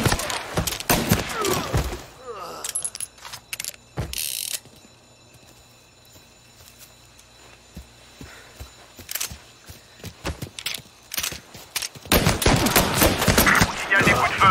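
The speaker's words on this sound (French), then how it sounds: "Il y a des coups de feu, à vous!" Gunfire in the video game Mafia Definitive Edition, with bursts of loud rapid shots at the start and end separated by a quieter stretch of scattered clicks and sharp cracks.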